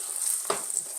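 An egg drops into hot bacon grease and sizzles, a brief crackling burst rising over a steady high frying hiss, close by.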